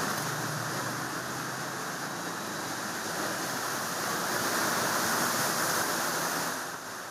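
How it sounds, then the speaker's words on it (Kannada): Heavy rain pours down at a railway station in Bengaluru, a steady, loud broadband rush of falling water that continues unbroken throughout, with no voices. "ಒಂದು ಕಡೆ ಮಳೆಯ ಅವಾಂತರದಿಂದ ರೈಲ್ವೆ ಸ್ಟೇಷನ್ನಲ್ಲಿ ನೀರು ಸುರಿತಾ ಇದೆ"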